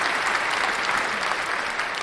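Dense, steady applause played as a sound effect, a continuous wash of many hands clapping at even volume for about two seconds with no voices.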